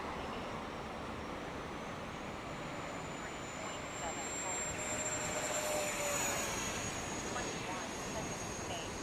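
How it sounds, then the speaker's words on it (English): A Su-30 model jet aircraft takes off at a windy beach, its high whining turbine tone rising steadily over a constant loud rush of wind buffeting the microphone. "Oh, I took off with the air brake up"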